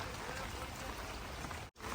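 Steady, dense rain pours down on open farm fields beside a farmhouse during a thunderstorm, a continuous close wash of falling drops with a brief dip near the end; no distinct thunder clap stands out.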